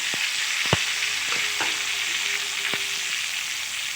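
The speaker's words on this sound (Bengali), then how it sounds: "গোটা কয়েকটা কাঁচা লঙ্কা ওটার সাথে অ্যাড করে দিচ্ছি ফুলকপি আলু আর হিম ভাজা" Green chillies tossed into a pan of frying cauliflower and potato sizzle steadily throughout, with a few sharp clanks of a spatula against the pan.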